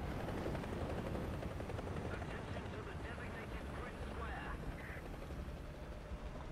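A helicopter hovers in the War Thunder video game, its rotor chop a constant dense rumble under a low engine drone, with someone speaking quietly beneath the noise.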